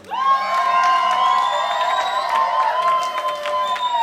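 A concert crowd cheers wildly, with loud, sustained shouts and whoops and scattered clapping that fill the whole stretch.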